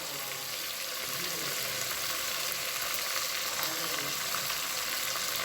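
Green chili, curry leaves and ginger garlic paste frying in oil for a Hyderabadi fish biryani, a dense, loud, unbroken sizzle close by with no pauses.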